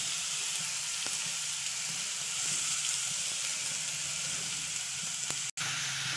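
Grated raw papaya fries in hot desi ghee for papaya halwa, giving a steady close sizzle with occasional stirring scrapes and a brief sharp click near the end.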